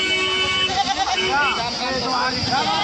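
Goats bleat at the Babarpur goat market in Uttar Pradesh, with several wavering cries rising over steady crowd noise while people talk nearby.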